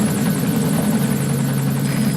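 Helicopter rotor chopping steadily and close in Metal Gear Solid 5 The Phantom Pain, a constant loud whirring drone with rhythmic blade thumps throughout, no talk over it.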